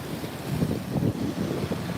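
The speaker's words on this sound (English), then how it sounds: "Just wait for these waves to go." Ocean waves break and wash against a rocky shore at Broken Head at high tide, a steady close roar of surf mixed with wind buffeting the microphone, with no voices.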